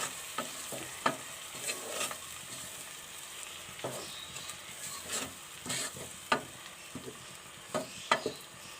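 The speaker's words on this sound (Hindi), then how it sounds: "हल्का सा भूनेंगे" Salt, turmeric, crushed red chili and cumin lightly roasting in a pan for a turnip dish, a quiet low sizzle broken by intermittent scraping and stirring clicks, with no voices.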